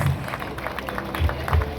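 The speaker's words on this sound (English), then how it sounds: "Let's have a huge round of applause for all the toppers" An audience at a Reliance Industries award ceremony applauds the toppers: a steady wash of clapping from a crowd, moderately loud and continuous for the whole stretch.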